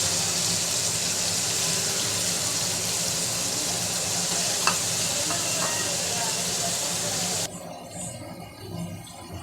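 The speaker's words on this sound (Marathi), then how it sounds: "आता मी याला तव्यामध्ये फ्राय करायला टाकते." Vam fish rubbed with turmeric and salt sizzles on a hot tawa with a steady, loud hiss. There is a faint click partway through, and the sizzle drops away sharply near the end.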